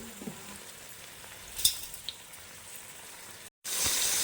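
Drumstick pieces frying with turmeric and salt for a drumstick tamarind stew give a faint, steady sizzle with a few soft clinks and stirring taps, then a sudden louder burst of frying near the end.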